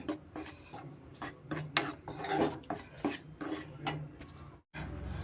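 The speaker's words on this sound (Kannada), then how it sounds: "ಮೀಡಿಯಮ್ ಫ್ಲೇಮಲ್ಲಿ ಈ ಥರ ನಾವು ಚೆನ್ನಾಗಿ ಅಕ್ಕಿ ಹಿಟ್ಟನ್ನ ಹುರ್ಕೊಬೇಕಾಗುತ್ತೆ" Rice flour roasted in ghee over a medium flame in a pan for rice tambittu, with steady scraping and stirring strokes of a spoon against the pan, close and continuous, with a brief gap near the end.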